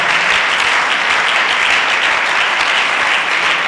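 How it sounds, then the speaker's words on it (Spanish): A church congregation applauds loudly and continuously, a dense, even roar of clapping close at hand with no speech over it. "dele aplausos a la gloria de Dios en esta hora"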